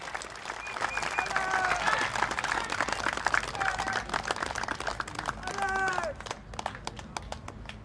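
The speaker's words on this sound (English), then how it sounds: "please give a round of applause if you empathize with this as well" A crowd at an outdoor Singapore Democratic Party election rally in Marsiling-Yew Tee claps in dense, sharp bursts. Cheers and voices carry over the applause before it tapers off.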